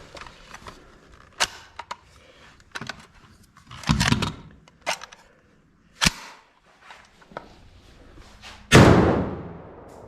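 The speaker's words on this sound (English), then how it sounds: "It looks like a double feed. Go ahead and try to clear it." A PSA AK74 rifle is worked by hand to clear a double feed outdoors, giving a series of sharp metallic clacks and slams from the action, irregularly spaced, with a louder burst near the end.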